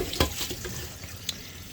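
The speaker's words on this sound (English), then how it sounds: "I already rinsed them off 2 times, and I'm gonna wash them another time." Fresh Jamaican roadside shrimp are rinsed in water at a low level. There are soft splashes and a few sharp clinks and drips, with a quiet wash of water underneath and no talking.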